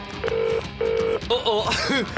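Telephone ringing on a comedy radio show, heard as two steady electronic ring bursts in quick succession, followed by a voice with warbling tones.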